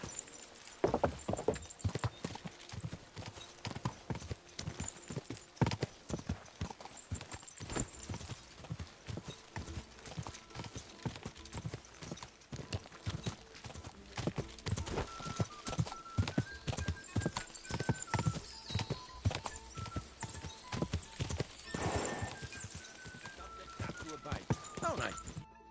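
A horse gallops in the game Kingdom Come: Deliverance II with steady, rhythmic hoofbeats throughout, plus occasional whinnies and people talking over the clopping.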